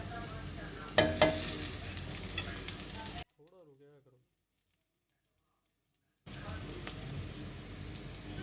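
Finely chopped chilies fry with chicken liver in a pan, making a fairly quiet, steady sizzle with stirring scrapes, interrupted by a stretch of near silence before the sizzling resumes.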